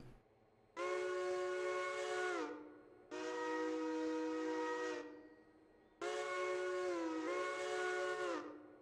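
Three long, loud steam locomotive whistle blasts from the video game Railroader, each held steady for about two seconds with short gaps between them.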